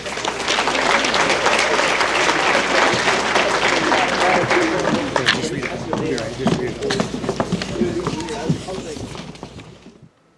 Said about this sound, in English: Let's give these ladies one more round of applause for their great season.